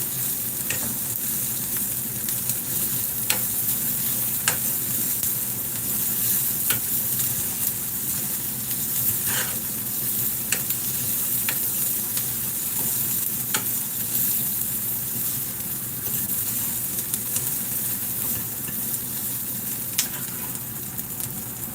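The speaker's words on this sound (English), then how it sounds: "I need to make sure that I stir them so they don't burn" Food frying over high heat while being stirred, a loud continuous sizzle and hiss with regular scraping taps of a utensil throughout, no talking.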